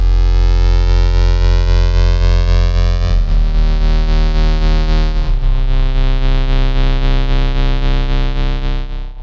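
A sustained, buzzy tone from a Vector synthesizer with tremolo pulses with a steady throbbing rhythm, changing pitch twice along the way, loud and continuous with no voices.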